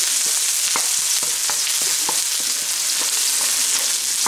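Chopped onion sautéing in a hot pan for Szechuan noodles gives a steady, loud frying hiss, broken by repeated short clicks of a utensil stirring against the pan.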